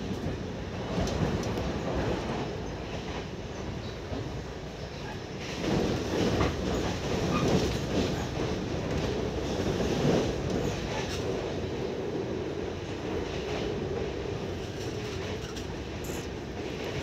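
Argo Cheribon passenger train in Indonesia running at top speed between Indramayu and Brebes, a steady loud rolling rumble with faint clickety-clack of wheels on rails, continuous and close from inside the carriage, no talk.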